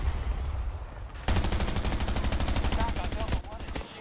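Rapid automatic gunfire in the shooter game Battlefield 2042 breaks out after a second of rumbling ambience and hammers on steadily as a loud, close burst, with a brief pause near the end.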